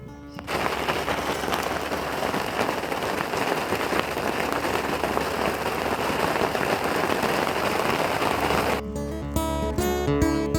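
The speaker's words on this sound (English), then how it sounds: "it's just about raining now. Oh, it started now. Quite heavy, like big drops." Steady, dense downpour of heavy rain with big drops hissing loudly and continuously for several seconds, then cutting off abruptly into a brief musical tone.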